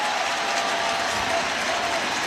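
A packed stadium crowd of nearly 50,000 cheers and applauds at a Yankees–Dodgers World Series game, a dense, steady roar of clapping and shouting that fills the whole space with no pauses.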